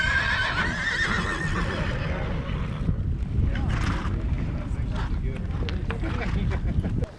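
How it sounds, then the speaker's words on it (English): A herd of horses charges out of a big holding corral at the start of a long cattle-style horse drive, with whinnies over a rumble of hooves and wind, while a narrator talks throughout. "The horses come charging out of the big holding corral"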